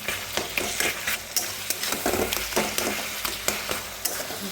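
Roasted eggplant mash being stirred and mixed with salt and spices by hand, giving soft, close, irregular squishing and scraping strokes with no voices.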